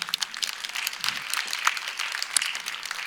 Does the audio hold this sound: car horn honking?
no